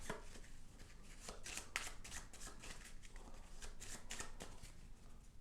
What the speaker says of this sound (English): take the bird cards and shuffle those